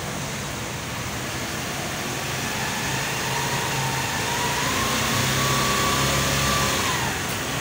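A car engine held steady at about 4,000 RPM, a loud continuous mechanical drone with a faint rising whine, no talking over it.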